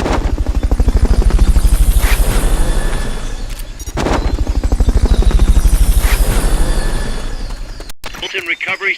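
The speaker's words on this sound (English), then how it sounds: "Fulton recovery subject confirmed onboard helicopter." A video-game helicopter used for Fulton recovery drones loudly and close, with steady rapid rotor chopping that fades briefly and swells again, then cuts off as a short burst of game radio chatter begins.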